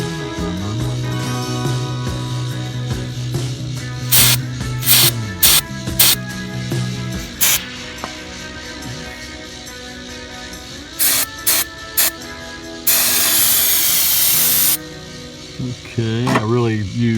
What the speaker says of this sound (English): spray the connectors.